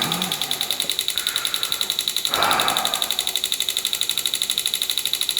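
A Renegade pulse motor runs with a fast, even ticking pulse and a faint whine, plus a brief louder burst partway through; the ticking is close and continuous.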